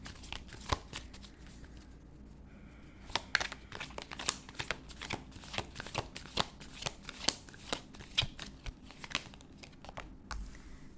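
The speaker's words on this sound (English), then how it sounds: "let's get a couple of shuffles here" Tarot cards being shuffled by hand, a long run of quick crisp riffling snaps and soft slides in a quiet room, close and steady with no voices.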